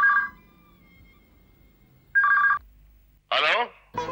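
An old-style telephone bell rings in short bursts indoors, two clear rings separated by a pause, followed by a person speaking.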